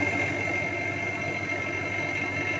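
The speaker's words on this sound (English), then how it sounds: "We have a nice vacuum pump. Doesn't make too much noise." A vacuum pump runs steadily with a low, even mechanical hum and a faint whine, quiet and constant with no changes in pace.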